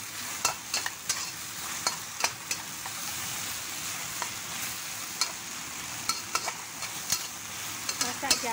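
Vegetarian chicken stir-fried with broccoli and mushrooms crackles in a hot pan, a steady sizzle broken by repeated sharp scrapes and clacks of a utensil tossing the food; no voices.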